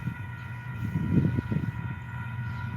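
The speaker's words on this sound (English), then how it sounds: "I'll just leave you with this train here before I turn it off" A train rumbles past outdoors, a steady low roar with faint tonal hum that swells slightly in the middle and stays at a moderate distance, with no voices.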